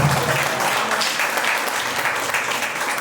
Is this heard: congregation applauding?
yes